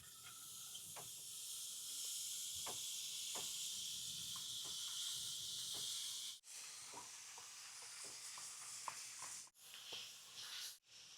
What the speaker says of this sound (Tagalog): Magluto lang po tayo ng star margarine. Lagay lang po natin instead oil.